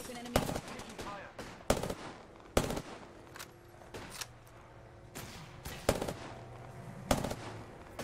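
Gunfire in the Apex Legends video game: several sharp bursts of shots at irregular intervals, loud and close, with quieter game effects and faint voices between them.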